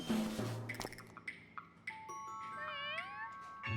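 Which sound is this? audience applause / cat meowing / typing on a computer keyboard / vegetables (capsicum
cat meowing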